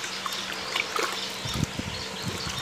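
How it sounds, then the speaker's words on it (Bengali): Liquid multivitamin medicine for farm birds trickles and pours into a container, then is mixed, giving soft wet splashes and dribbles followed by a few low knocks, close and fairly quiet. "এইভাবে মেডিসিনটি ঢেলে নেবেন, নিয়ে ভালো করে মিক্স করবেন।"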